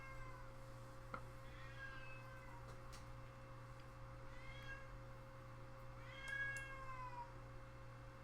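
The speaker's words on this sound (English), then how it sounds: "My cat's meowing like a ton." A pet cat meows several times indoors, faint and drawn out, over a steady low electrical hum.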